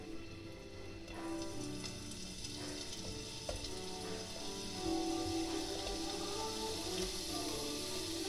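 Neapolitan sausage sizzles steadily in a frying pan, a continuous crackling hiss that swells slightly after the first second and holds at a moderate, close level throughout, with no talk.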